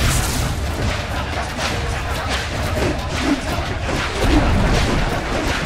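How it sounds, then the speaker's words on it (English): A Dota 2 middle tower collapses amid battle, giving a dense, continuous rumble of booms and crashing impacts that stays loud and steady throughout. "Dire's middle tower has fallen."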